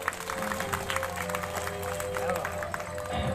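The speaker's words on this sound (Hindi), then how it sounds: "डॉक्टर साहब के लिए ताली बजाते हैं।" An audience at a Bhagwat Katha clapping for a doctor, dense moderate applause from a gathering, continuous and evenly spread across the room.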